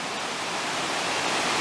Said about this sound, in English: this is the stream that cuts down through Whiteoak Canyon